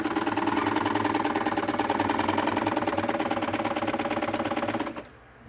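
A vintage Brother model 151 sewing machine, made in Japan, runs steadily with gears turning, giving a fast, even mechanical whir and clatter close up. It stops abruptly near the end, with no talking.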